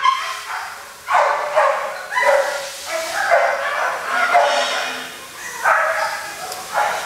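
Dogs barking in overflow shelter kennels: several overlapping barks and yips from multiple animals, loud and echoing in a reverberant room, with a continuous background of kennel din.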